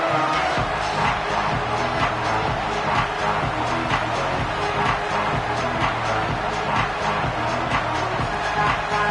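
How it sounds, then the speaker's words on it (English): The Texas Tech Red Raiders home crowd at a college football game roars steadily through a full stadium on third down, a dense, loud, unbroken wall of cheering and shouting that never dips. "The Red Raider crowd rising to the occasion to help its defense on 3rd down."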